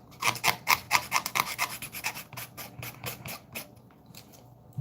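Leather being roughed up by hand for a belt, a quick run of rasping scrapes in a steady rhythm that fades toward the end, close and fairly loud with no talking.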